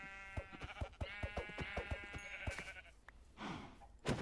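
A sheep in Minecraft gives a quick run of clipped, nasal bleats, several in a row over about three seconds. A couple of softer rustling noises follow.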